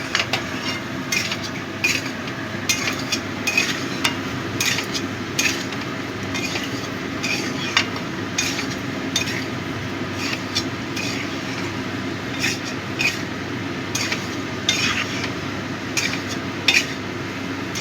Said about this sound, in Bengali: সব ভালো করে মিশিয়ে নেব।